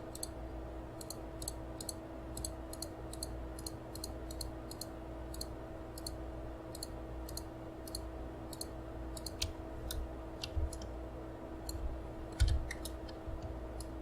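A computer mouse double-clicks while a ball is modelled in the Unity editor: short, sharp, close clicks in quick pairs and irregular runs over a steady low hum, with no talk.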